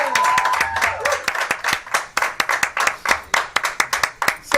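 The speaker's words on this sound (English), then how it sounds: "Give a round of applause, please." Audience clapping to welcome State Senator Ed Hernandez at a local evening event, starting as a dense burst and thinning into scattered, distinct individual claps that grow sparser and slower.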